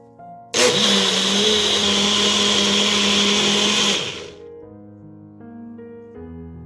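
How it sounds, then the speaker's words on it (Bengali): An electric blender grinds mung dal with green chilli, ginger and a little water, roaring loud and steady for about three and a half seconds before winding down and stopping, leaving a quiet tonal background. "এই যে জলটা দেওয়ার জন্য খুব ভালোভাবে সবকিছু একদম মিহি করে পেশাই করা হয়ে গেছে"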